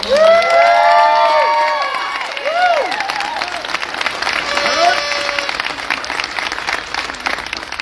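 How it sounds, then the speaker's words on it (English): An audience at the Alpine Academy Class of 2024 graduation ceremony bursts into loud applause with whoops and high cheers, which fade into a lighter, steady clapping that continues to the end. "let's give them a round of applause"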